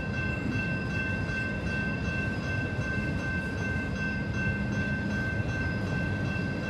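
A night train passing through Plymouth, Michigan, a steady low rumble and rolling rail noise with a sustained high tonal whine, continuous and fairly distant throughout, no voices.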